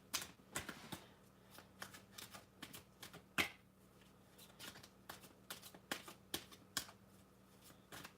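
Tarot cards being shuffled, sounding as a string of short crisp riffles and taps spread irregularly across the clip, close and fairly quiet, with no talking.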